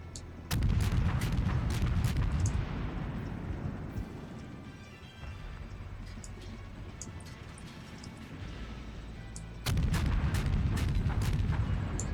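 Naval gunfire from the World of Warships video game, a cruiser battle: loud deep booming salvos at the start, a rumbling decaying tail, then another heavy volley crashing in near the end.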